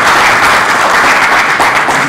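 An audience applauds loudly and continuously at a ceremony presenting and signing a book on career plan management, a dense, even wall of clapping from a full room.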